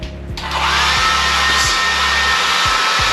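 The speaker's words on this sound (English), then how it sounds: "I've got a hairdryer." Hair dryer switched on in a hotel bathroom, jumping to a loud steady blowing whoosh that holds at full strength.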